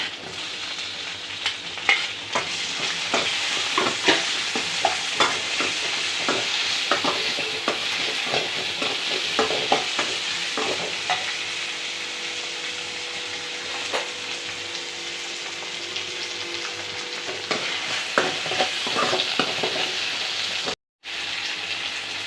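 Tempering spices for mutton kuzhambu sizzle steadily in hot oil in a pan, a continuous close frying hiss broken by repeated scraping stirs, with no talking.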